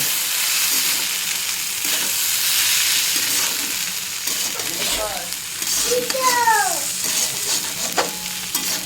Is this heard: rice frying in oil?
yes